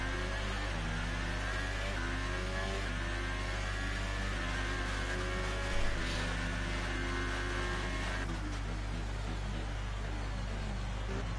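A Formula 1 car's engine in the F1 2018 video game at the Mexican Grand Prix drones steadily through a qualifying lap, rising and falling in pitch with gear changes over a constant low electrical hum, faint and without talk.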